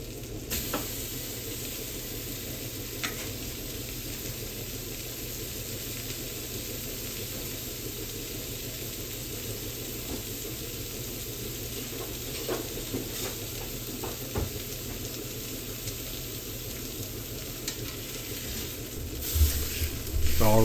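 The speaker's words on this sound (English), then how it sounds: "it's time to put the steak in" Steak searing in a hot pan at home, a constant dense sizzle and hiss that holds steady for the whole stretch, with faint clicks and a few louder spatters near the end.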